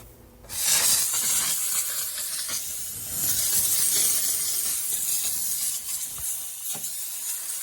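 A loud, steady hiss of a Saker handheld steam cleaner pushing out steam, continuous for several seconds with slight surges and dips as the handle button is eased.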